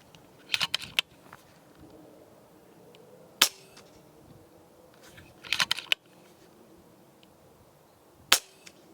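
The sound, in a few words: FX DRS Classic .22 air rifle shots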